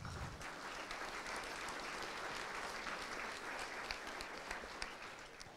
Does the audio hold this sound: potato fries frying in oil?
no